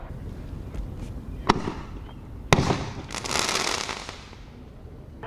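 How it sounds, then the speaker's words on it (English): Two sharp booming bangs of fireworks ring out a second apart, followed by a swelling crackling hiss that fades away. "Here's some footage that shows some of the dangers of fireworks."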